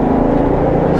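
Kia Mohave SUV with a 3.0 engine accelerating, a steady, loud low drone that holds evenly through a brief moment.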